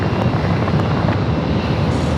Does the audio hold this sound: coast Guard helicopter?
yes